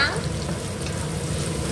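Sliced ginger and shallots stir-frying in oil in a wok, a close, steady sizzle with stirring scrapes throughout.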